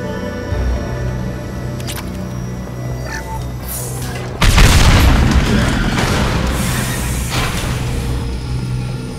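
A tank in the video game Mass Effect 2 is blown apart by heavy weapons fire: one loud, deep boom bursts in partway through and rolls on as a long, rumbling crackle over a steady background of game ambience.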